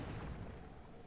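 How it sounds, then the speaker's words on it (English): Naval bombardment shells with upgraded ammunition firing in the strategy game Total War: Shogun 2 – Fall of the Samurai, a loud continuous rumble of heavy cannon fire that booms at first and slowly eases off. "And we have our naval bombardment as well"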